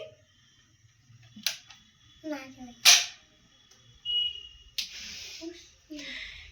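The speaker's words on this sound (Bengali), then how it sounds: "এখন চলছে বন্দুক ফায়ার ফায়ার" Toy guns popping at a Rath fair, a few sharp cracks spread out amid crowd noise and scattered talk, with high electronic tones and chatter in the background.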